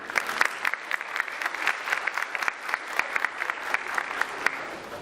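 An audience at an international workshop on market power regulation claps steadily to welcome a speaker, dense, even applause that holds at a moderate level throughout with no voices.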